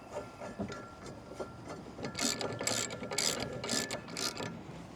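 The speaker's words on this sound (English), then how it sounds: "this 15/16 size socket does fit it really well. Thread your bolt in." A ratchet wrench fitted with a 15/16 socket threads an anti-vibration bolt on an e-bike rack, giving repeated mechanical clicking and grinding bursts that grow busier and louder in the second half.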